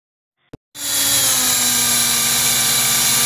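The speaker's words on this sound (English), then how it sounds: "You're going to take a 5/32 drill bit," After a short click, a power drill with a 5/32 bit starts up and bites into a lock plug, a loud, close, steady high-pitched whine that continues unbroken to the end.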